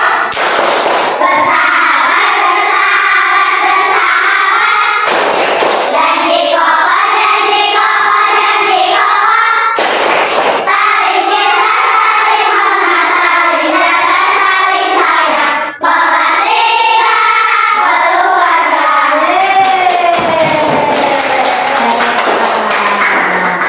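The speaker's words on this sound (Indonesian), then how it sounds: "kita melakukan dulu tepuk kelas 3 ya. Tepuk kelas 3." Schoolchildren clap a rhythmic class routine called tepuk kelas 3 in a primary school classroom, loud, steady and patterned hand claps running throughout, with young voices chanting along in time.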